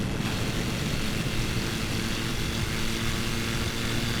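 An amphibious propeller plane drones steadily in flight, its engine a loud, continuous broadband roar heard from inside the cabin with no break.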